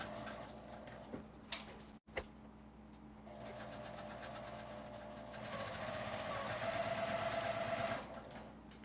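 A sewing machine stitches fabric for a tissue box cover, running in a fast, steady mechanical whir that pauses briefly, then picks up again louder and continuous.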